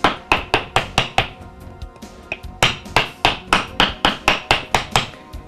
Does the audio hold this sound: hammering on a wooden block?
yes